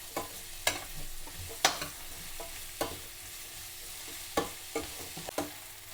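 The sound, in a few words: sautéing onions with salt in a pan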